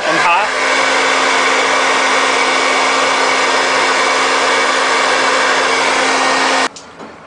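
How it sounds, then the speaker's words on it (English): A hair dryer set on high and hot heats heat-shrink tubing, blowing in a loud, constant rushing drone with a steady hum, then cutting off abruptly near the end. "Make sure you put the hair dryer on high and hot."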